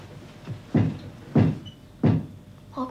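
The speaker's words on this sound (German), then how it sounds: "Rocco Sanko unten klopft" Three heavy, evenly spaced knocks sound from downstairs, dull and resonant like a fist on wood, clear and fairly close with short pauses between them.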